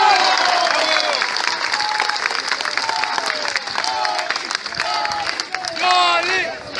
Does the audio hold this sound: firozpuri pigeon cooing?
no